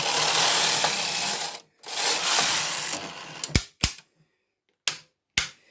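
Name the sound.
domestic knitting machine carriage working brioche on two yarns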